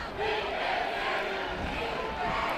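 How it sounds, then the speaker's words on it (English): A high school football student section at a Friday night varsity game between Skyline and Eastlake yells and taunts the rival section, a sustained roar of many voices chanting together from the stands at moderate distance. "the Skyline student section is taunting the Eastlake student section"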